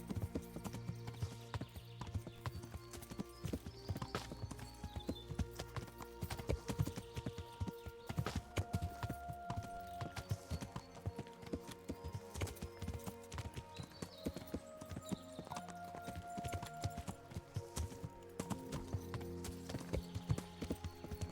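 Horse hooves clip-clop steadily on a road in the medieval video game Kingdom Come: Deliverance, a continuous rhythmic walking beat over quiet game ambience and soft music.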